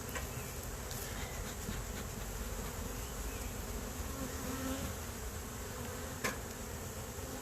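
Honey bees buzz steadily at an open hive as the frames are worked, a dense continuous drone that stays even throughout, with one brief sharp knock near the end.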